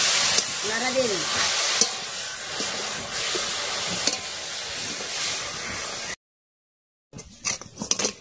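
Papaya simmers in sugar caramel in a wok, with a steady sizzle and soft scraping strokes as it is stirred, a brief voice near the start, then a pause and a few clattering stirs at the end.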